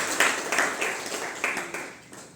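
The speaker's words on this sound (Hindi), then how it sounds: "इनके लिए ताली बजाओ।" Audience clapping at a spiritual class, a brief burst of scattered hand claps with a few sharper accents near the start, fading out over a couple of seconds with no talk.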